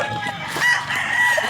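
A gamefowl rooster crows once, close and clear, a short ringing call rising over faint background murmur.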